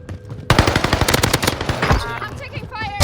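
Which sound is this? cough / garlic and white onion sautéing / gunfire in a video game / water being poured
gunfire in a video game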